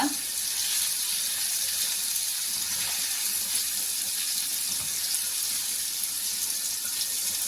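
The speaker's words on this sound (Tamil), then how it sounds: "பன்னீர் ஃப்ரை பண்ணுறப்ப நம்ம இதை பரட்டி விட்டுட்டே இருக்கணும்" Paneer fries in a pan while it is kept stirred for paneer biryani, giving a constant bright hissing sizzle at moderate level with faint occasional scrapes underneath.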